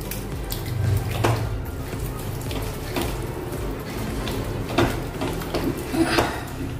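Half a glass of water pours steadily into a pan of cooking spinach nearby, a continuous splashing rush with a few small clinks.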